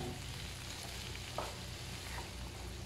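Sliced onions sauté in a hot pan with a steady, close sizzle and one brief stir or clink partway through, and nobody talks.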